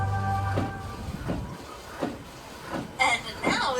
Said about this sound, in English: do you think we can get this tram up to 88 miles per hour?